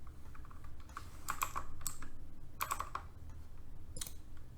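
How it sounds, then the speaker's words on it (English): Computer keyboard typing in short clustered bursts of clicks at a desk, moderately close with a low background hum, no talking. "So I'm just going to type that in right here."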